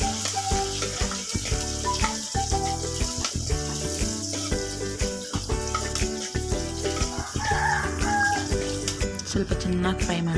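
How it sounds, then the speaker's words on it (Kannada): Mustard seeds, garlic and curry leaves fry in a pan for mango sambar, giving a steady, close sizzle and crackle throughout, with music playing over it. "ಸ್ವಲ್ಪ ಸಾಸಿವೆ ಮತ್ತು ಸ್ವಲ್ಪ ಬೆಳ್ಳುಳ್ಳಿ ಮತ್ತು ಸ್ವಲ್ಪ ಕರಿಬೇವು ಹಾಕಿ ಚೆನ್ನಾಗಿ ಫ್ರೈ ಮಾಡ್ಕೊಳ್ಳಿ."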